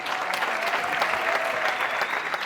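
A comedy show crowd in Kigali breaks into dense, steady applause for a visiting minister, a full roomful of clapping heard alone without speech.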